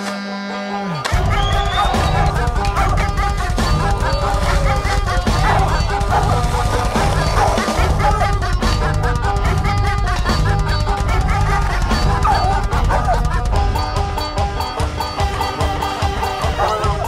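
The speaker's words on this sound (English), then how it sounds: "I'm running my dog in the Tennessee Holler, listening to what he's saying" A hound dog barks and yips repeatedly during a raccoon hunt in a Tennessee hollow, heard over loud steady music with a singing voice throughout.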